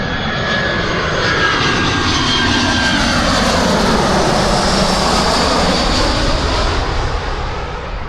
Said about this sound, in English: next plane's coming from Brussels in Belgium